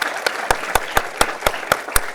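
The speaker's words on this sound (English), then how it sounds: "so how about a round of applause?" A small group claps in unison for Kate at a Naval Academy alumni chapter meeting, giving about nine crisp, evenly spaced claps in a quick steady rhythm, close and fairly loud.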